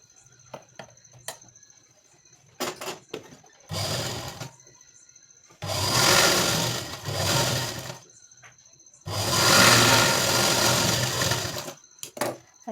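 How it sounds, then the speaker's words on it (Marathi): A sewing machine stitches a tuck on a blouse, running in three loud whirring bursts of a few seconds each, with quiet gaps and light handling clicks between them. "त्याच्यानंतर आपल्याला टीप मारून घ्यायची आहे."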